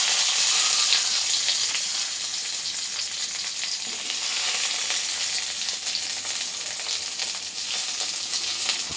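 Onion and garlic sauté in a pan for a mint pachadi, giving a steady, even sizzle and crackle of frying throughout with no talking.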